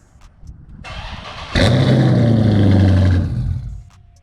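A Dodge Charger engine starts by remote start: a short crank catches into a loud, steady idle that rumbles close by for about two seconds, then settles lower.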